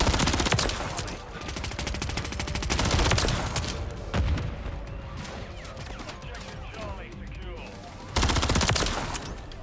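Rapid automatic fire from a Rival 9 submachine gun in Modern Warfare 3, long sustained bursts with brief pauses, loud and close, with game effects underneath.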